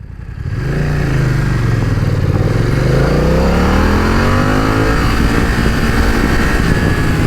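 A BMW F900XR motorcycle engine revs up from idle, the pitch sweeping down and climbing again before holding a loud, steady high drone close by.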